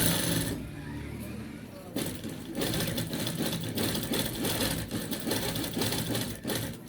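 A sewing machine runs steadily while stitching a men's shirt collar, its rapid needle chatter close and continuous after a brief pause, with a voice talking over the work.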